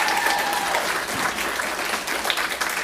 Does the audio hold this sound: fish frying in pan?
no